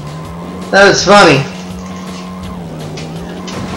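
A car in The Dukes of Hazzard video game skids with two sharp, loud tire squeals over a steady engine hum, while a person talks briefly.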